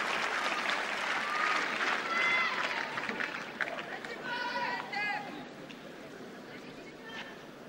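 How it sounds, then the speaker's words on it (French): A crowd applauds supporters at an outdoor clay-court tennis match at the French Open, the clapping fairly distant and steady and thinning out toward the end, with a commentator talking over it. "3 petits points du match pour Stéphane Huet qui reçoit, vous le savez, les applaudissements de ses supporters."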